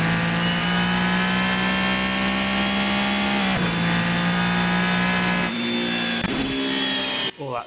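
Ferrari 499P Le Mans hybrid race car engine holding a loud, sustained high rev, a brief dip in pitch, then climbing again near the end, with a voice murmuring faintly underneath.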